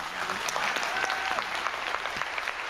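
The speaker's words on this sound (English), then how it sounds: "Let's all clap." A crowd at a vice-presidential debate watch party claps steadily and fairly close, with a few voices murmuring and calling out beneath the applause.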